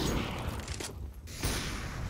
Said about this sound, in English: Oh, lots of explosions going on right now